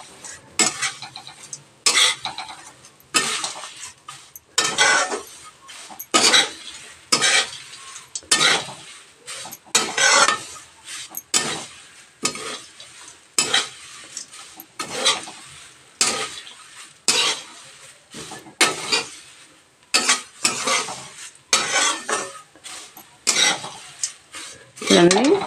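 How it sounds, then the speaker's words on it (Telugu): Poha (atukulu) frying in oil in a pan as it is stirred, with rhythmic close scraping and rustling strokes of a spoon and a light crackling sizzle, repeating in bursts throughout with short quiet gaps. "ఇవి కొంచెం బాగా అటు ఇటు కదపాలి. కదిపితే ఆయిల్లో కొంచెం మంచిగా వేగుతాయి అన్నమాట."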